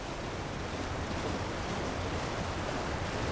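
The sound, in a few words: waterfall rushing water in Elden Ring Shadow of the Erdtree video game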